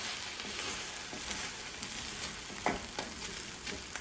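Sizzling ground farm beef mixture for shepherd's pie being stirred in a pan, a continuous soft frying hiss with occasional scraping stir sounds, fairly quiet and without talk.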